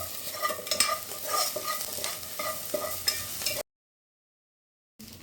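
Onions, cashews, coriander, green chillies and carrot pieces fry in a pan for mushroom biryani, with close crackling sizzle and scraping stirs for several seconds, then sudden silence before a brief return.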